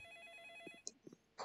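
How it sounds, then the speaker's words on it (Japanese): Telephone ringing in a Roblox ice cream shop horror game, a faint electronic ring with steady tones followed by brief clicks and small game sounds. "電話だ。"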